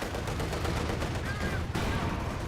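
Tank gunfire in the Company of Heroes 2 battle game, a T-70 firing on infantry: dense continuous shooting and sharp cracks layered over a constant battle din, with a louder report near the end.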